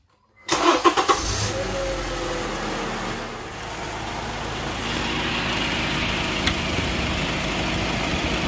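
A car engine with an evap emissions fault code cranks with a few rapid chugs, catches, and settles into a steady, rumbling idle close by.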